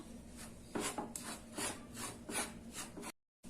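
Rice flour being stirred while it roasts in a pan over a medium flame, producing a steady sequence of close, rhythmic scraping rubs, about six strokes, before stopping abruptly.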